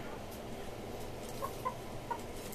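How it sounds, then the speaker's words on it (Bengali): Tiger breed hens at a small poultry farm give a few soft clucks over a steady hum of background noise. "এই হচ্ছে আমার টাইগার মুরগিগুলা।"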